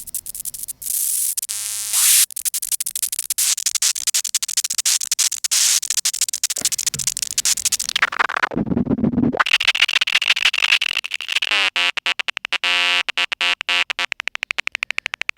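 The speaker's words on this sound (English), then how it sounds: "So let's listen to the bandpass out and try a different low pass." Modular synth feedback patch through a Joranalogue filter's bandpass output, harsh scratchy noise bursts and buzzing tones that stutter rapidly, sweep through a deep whooshing dip, then break into fast rhythmic clicking pulses, loud and without speech.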